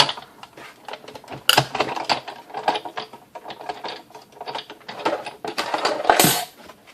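A Big Shot die-cutting machine cranking paper and a die through, giving irregular mechanical clicks, ratcheting clatter and sharp knocks over several seconds, close and fairly loud with no talking.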